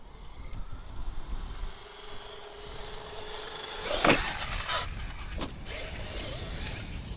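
Traxxas X-Maxx RC monster truck on a 6S battery driving and holding a wheelie, giving a steady high-pitched electric motor whine with a brief louder surge midway, fairly distant, no talking.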